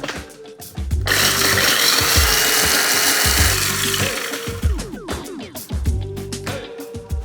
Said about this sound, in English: I'm gonna add these to the spice grinder. And we're gonna blend this into a fine powder.